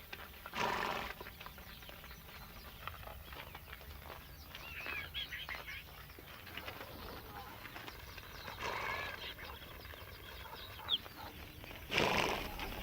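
Herded horses move to and from water in an arid landscape, with a few loud snorting or whinnying bursts near the start and end over a steady hum of wind and animal activity.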